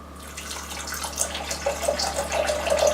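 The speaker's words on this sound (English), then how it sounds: "And make it up to about 950 millilitres with distilled water" Distilled water poured into a jug of plating chemicals, a steady trickling splash that grows slightly fuller as the jug fills, heard alone and close.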